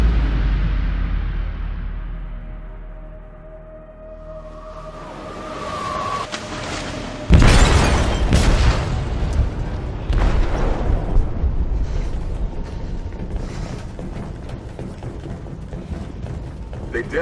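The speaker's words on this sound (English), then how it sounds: "They detonated an explosive in the hold. The ship is sinking, sir." Explosion in a ship's hold in the video game Detroit: Become Human: a loud sudden boom after a quieter rumbling lead-in, followed by crashing, rattling debris and ongoing mechanical clatter.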